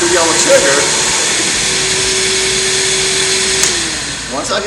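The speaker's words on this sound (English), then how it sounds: "The solution's going to flow, my brush is going to spin, and my vacuum kicks on." A Kärcher BR 35/12 Bp battery floor scrubber runs with its brush spinning and vacuum on, a steady motorized whine and vacuum roar, loud and close, while a person talks over it.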